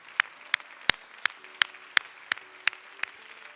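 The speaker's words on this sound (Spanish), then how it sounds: "Dele un aplauso al Señor," A church congregation at a Sunday worship service claps in slow, spaced beats, about ten sharp claps spread evenly and close by, with no talking.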